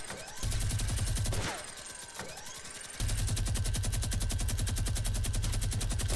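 Sustained rapid minigun fire in the Fortnite Battle Royale video game, a loud continuous mechanical roar that breaks off briefly midway with a short burst in the gap, then resumes at full force to the end.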